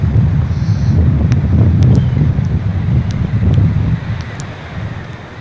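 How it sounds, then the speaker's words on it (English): Strong storm wind at Lido Beach buffets the microphone in a loud, continuous low roar with gusty surges, with no talking, then eases slightly over the final second. "now we're getting some good wind, kicking up a little bit."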